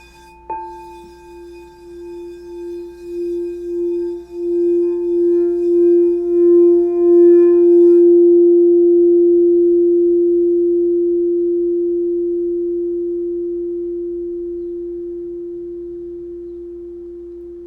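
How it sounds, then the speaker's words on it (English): A crystal singing bowl is struck once and then rubbed, its pure steady tone swelling in slow pulses before ringing out alone and gradually fading, loud and close. "And now I'm going to play with my crystal bowl."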